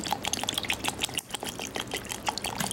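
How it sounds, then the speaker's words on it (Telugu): Cold water poured into blended mango juice after ice cubes, a steady close splashing and trickling stream with bubbly gurgles throughout, no voices present. "ఈ విధంగా ఐస్ క్యూబ్స్ కూడా వేసి గ్రైండ్ చేసినాక ఇప్పుడు కాసిని చల్లటి నీళ్ళు వేసుకోవాలి."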